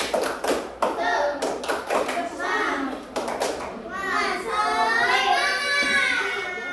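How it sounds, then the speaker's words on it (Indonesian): A class of children performs a rhythmic spirit clap, sharp hand taps in patterned bursts mixed with kids' voices chanting and calling out, loud and close, ending in a rising shout. "sekarang ibu mau kalian tepuk semangat terlebih dahulu"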